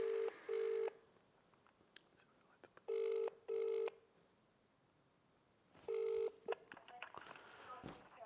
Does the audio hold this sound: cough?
no